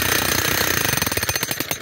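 Jackhammer pounding metal piles into the ground for a greenhouse frame, a loud, close, rapid hammering that starts as a dense roar and breaks into distinct fast repeated blows.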